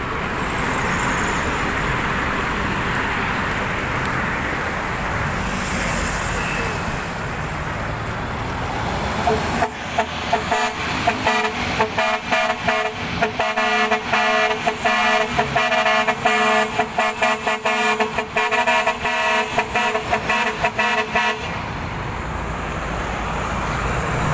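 A car horn fitted with X-ray film blares in a long, continuous honk for several seconds over steady road traffic noise, loud and close.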